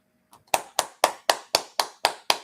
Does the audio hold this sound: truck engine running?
no